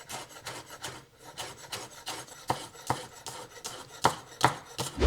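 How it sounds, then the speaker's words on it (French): Knife chopping a spring onion on a board, a run of quick, fairly close taps and scraping rasps that settle into an irregular rhythm, with no talking. "Je vais également hacher une cébette."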